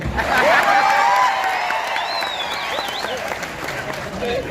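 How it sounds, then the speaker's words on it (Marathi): Students at a career guidance gathering in Nanded break into loud applause with shouts and cheers, strongest at the start, then easing into ongoing clapping as voices call out over the crowd. "आणि आता जोरदार टाळ्या वाजवा माझ्यासाठी."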